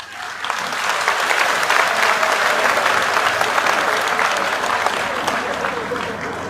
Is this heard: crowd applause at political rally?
yes